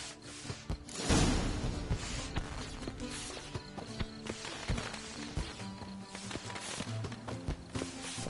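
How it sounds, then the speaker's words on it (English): Horse hooves clip-clop in The Witcher 3 game, an irregular series of walking hoof strikes with soft mechanical rattles, fairly close and without speech. "Saddled horses await in the stables."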